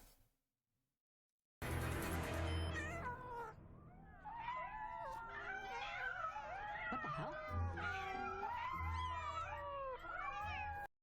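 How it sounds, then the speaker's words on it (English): Cats meow and caterwaul in a played internet cat video, loud, overlapping cries one after another for about nine seconds after a short silence, with a low hum beneath. "So they're sending them cat videos."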